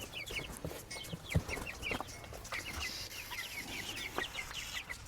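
Several chickens cluck inside a small coop on a farm, a steady overlapping chatter of short calls close by, with busy rustling and scratching underneath and a brief louder knock partway through; no talking.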